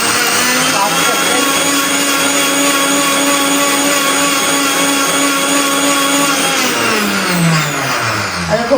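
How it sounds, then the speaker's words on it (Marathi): An electric kitchen mixer grinds horse gram into fine flour, a loud, steady high-pitched whirring drone that holds for several seconds and then winds down in pitch near the end. "आता हे मी मिक्सरमध्ये ग्राइंड करते"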